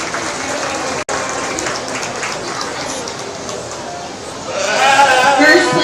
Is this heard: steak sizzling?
no